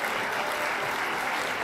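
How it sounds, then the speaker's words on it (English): Audience clapping fills a live comedy show, a dense, steady wash of applause running unbroken and fairly loud throughout. "It's clapping."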